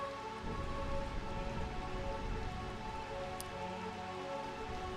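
Steady rain pours down in the Realm of Eternal Rain in Final Fantasy IX, a dense even hiss that carries on unbroken, with a faint low rumble underneath and no voices.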